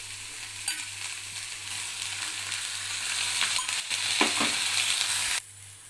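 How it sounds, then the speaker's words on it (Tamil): Black nightshade berries sautéing with onions in a pan, a steady crackling sizzle that swells with occasional scraping stirs before cutting off abruptly near the end. "இது கூட நான் கழுகி வச்சுருக்கிற மணத்தக்காளிக்காயை சேர்த்து வதக்கிக்கிறேன்"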